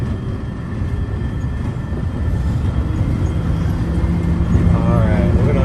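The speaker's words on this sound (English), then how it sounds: "we're gonna let you guys see the outside of the monorail right now" Disney monorail train running, a continuous loud rumble and whine that builds gradually, with a voice speaking faintly underneath toward the end.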